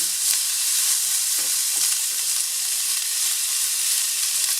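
Garlic and onion sauté in a pan for beef chop suey, a loud, dense sizzle that holds constant and close with faint stirring textures underneath.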